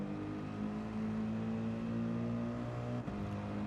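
A Mercedes AMG GT3 race car in Gran Turismo 7 holds a steady, droning engine note at sustained revs, with a brief dip near the end like a gear change, loud and continuous with no talking.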